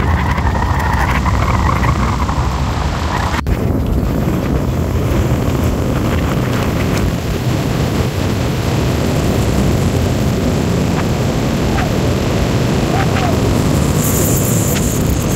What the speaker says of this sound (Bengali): সামনে শুধু রাস্তা, আর আমার বাইক এগিয়ে চলছে।